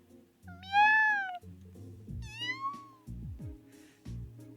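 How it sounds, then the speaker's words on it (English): A kitten meows in the role-playing video game Trails of Cold Steel II, two rising-falling cries over soft game background sounds and music. "Huh, what's that kitten doing here?"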